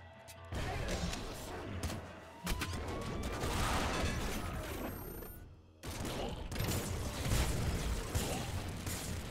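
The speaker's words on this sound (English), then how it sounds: "Bouncer plasma gun." Bouncer plasma gun firing in Nuclear Throne, played on the hardest difficulty of the Ultra mod: dense, loud bursts of crackling shots and impacts over game music, with a brief drop in the middle before the barrage resumes.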